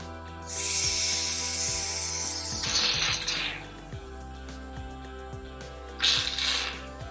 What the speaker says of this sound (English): I guess you're supposed to like spray it right on your hair.